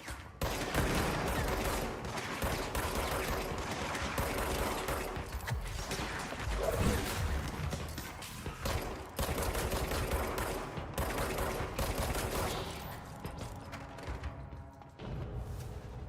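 Dense gunfire in the video game Control, rapid bursts and steady automatic shots running loud and close for most of the stretch, with brief gaps and dips near the end.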